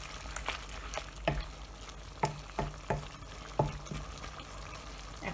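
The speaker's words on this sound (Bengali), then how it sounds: "এখন একটু খুব ভালো করে নেড়ে দিলাম" Cucumber and prawn curry sizzles steadily in a pan while a utensil stirs it, each firm scrape or tap against the metal landing at an uneven rhythm of about half a dozen sharp knocks over the frying hiss.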